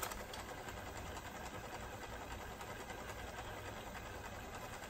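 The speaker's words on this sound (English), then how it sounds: "You can fast forward, you can rewind." A Pioneer SK-750 cassette deck with a repaired drive gear and replaced belt runs through fast-forward and rewind, a faint, steady mechanical whir with a soft, fast rhythmic ticking.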